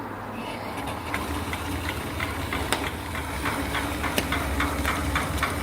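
A steam engine driven by a return flue horizontal boiler runs nearby, a continuous hiss and low mechanical churn with light regular clicks and knocks ticking through it, no voices.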